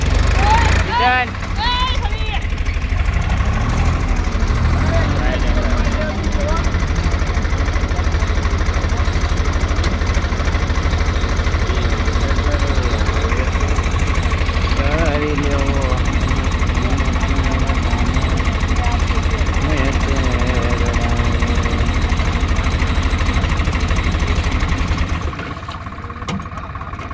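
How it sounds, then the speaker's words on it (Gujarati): Diesel engine of a Swaraj 742 tractor idling nearby during a rescue, a constant low throbbing knock under people talking and shouting, cutting off near the end. "તમે ટ્રેક્ટર ઘડીક થઈને બંધ કરી નાખો."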